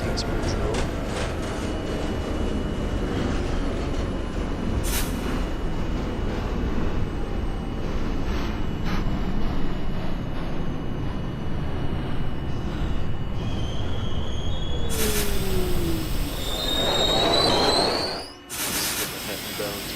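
A Manhattan-bound NYC Subway D train in the OpenBVE simulator rumbles steadily along the track, with sharp wheel squeals rising near the end and a voice heard over it.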